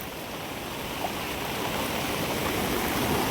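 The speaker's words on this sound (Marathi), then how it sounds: "पूर बघा किती आलेला आहे इकडं" The Girna river in full flood after heavy rain rushes past in a loud, steady roar of churning water, continuous and close, with no voices over it.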